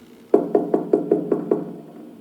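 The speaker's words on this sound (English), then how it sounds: "Mummy Pig as she knocked on the door" Mummy Pig knocks on the door of Grandpa Pig's house, seven even, quick wooden raps in a steady run, close and clear with no talk over them.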